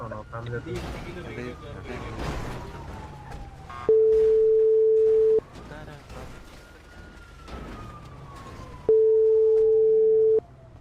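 A video game phone call rings out as two long, steady electronic tones separated by a pause. A separate gliding tone and voices come and go around them.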